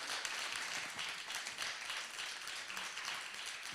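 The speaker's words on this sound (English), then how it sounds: "Can we give a round of applause for our panel?" Faint, steady applause from a homebuyer's workshop audience for a panel, a continuous patter of many hands clapping at a distance.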